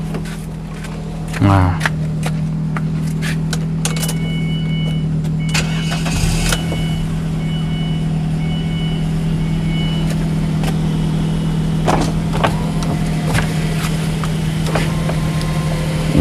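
A used Ford Escape SUV's engine cranks, catches and settles into a steady idle hum, with brief clicks and handling noises nearby and a person speaking briefly near the start.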